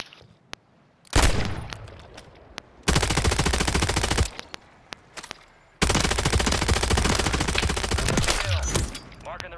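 Bursts of automatic gunfire from a Call of Duty match, loud and sustained in two long volleys with scattered single shots between, near and harsh, with a short pause in the middle.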